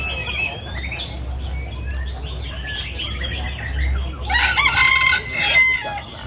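A rooster crows loudly near the end amid a Vietnamese rooster beauty contest, preceded by scattered bird chirps and clucks over a steady low crowd rumble.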